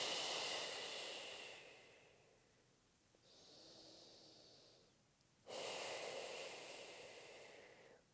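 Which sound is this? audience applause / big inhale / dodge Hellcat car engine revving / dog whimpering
big inhale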